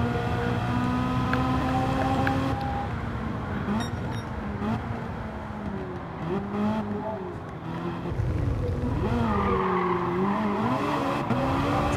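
A Ferrari race car in Gran Turismo 7 drives loudly, its engine note climbing and dropping through gear changes, easing off midway before surging again with rising revs and a brief tire squeal.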